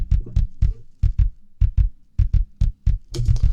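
Punk-style kick drum captured by two combined mics, tightly gated so each hit is short and punchy; about a dozen loud, close thumps in an uneven pattern, with a brighter, busier burst of drumming at the end and no talking.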